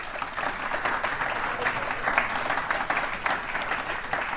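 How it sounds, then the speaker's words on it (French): An assembly audience of a French Protestant federation applauds: steady, dense clapping of a large room, moderately loud and continuous throughout. "je vous demande d'applaudir"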